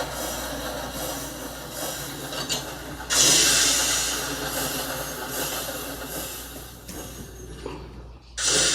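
A Minecraft train rolls into a station, a steady rumbling rail noise with hissing and rubbing, a louder surge midway, then it eases down before a final burst.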